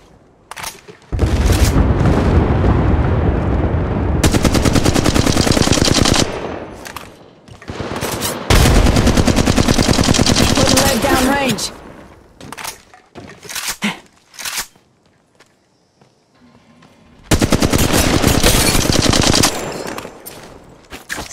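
Bursts of automatic gunfire from a video game shooter, several long sustained volleys separated by short pauses with scattered single shots and thuds, loud and close, no talk over them.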